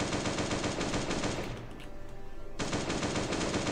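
Rapid automatic gunfire rattles at a zombie in the Last Day on Earth: Survival video game. Loud continuous bursts pause briefly in the middle, then resume at full force.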